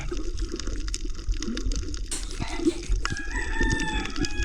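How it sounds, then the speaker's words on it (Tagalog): A rooster crows outdoors, its drawn-out call ringing out over splashing water and scattered clatter. "Simula na naman ang manok."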